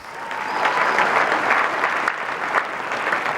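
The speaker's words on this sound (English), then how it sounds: "Please give them a round of applause, please" A large pageant audience applauds the Miss Universe Sri Lanka finalists, a full, even roar of clapping that swells quickly and holds steady throughout.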